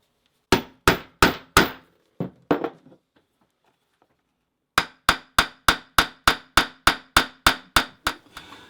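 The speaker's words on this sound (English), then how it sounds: "We have our loop cut out, we'll rivet that on." A hammer strikes a rivet through a leather keeper loop in sharp, ringing blows: a few quick hits, softer taps and a pause, then a long evenly spaced series of loud, close strikes.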